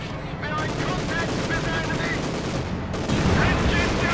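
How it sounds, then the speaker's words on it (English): Company of Heroes 2 battle with an anti-tank grenade going off amid dense gunfire and explosions, loud and continuous with no pause. "Anti-tank grenade goes off."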